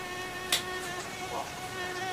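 Mosquitoes buzzing close by in a thin, steady whine with wavering pitch, holding throughout with a brief louder tap near the start and no talk.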